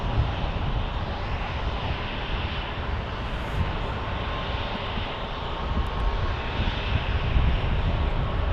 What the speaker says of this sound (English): The A330 Neo getting ready to take off to Paris